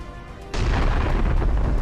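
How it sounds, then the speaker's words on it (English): An armored personnel carrier blows apart after an anti-tank guided missile strike, a sudden loud blast followed by a sustained, roaring rumble of burning and debris. "A massive explosion tears the APC to pieces."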